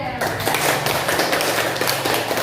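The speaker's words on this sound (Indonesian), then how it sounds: "Tepuk tangan untuk kelompok D." A classroom group claps for a student team, a dense burst of close, tapping hand claps lasting a couple of seconds.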